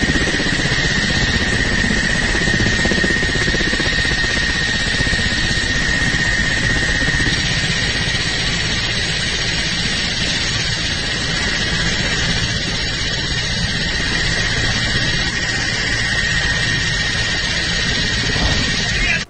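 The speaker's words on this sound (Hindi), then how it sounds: "घायलों को आनन फानन यूक्रेन के हेलीकॉप्टर के द्वारा यूक्रेनी सेना ले जाती हुई नजर आ रही" A Ukrainian military helicopter airlifting wounded soldiers drones loudly and steadily for the whole stretch, a dense, constant rotor and engine roar close by with no pauses.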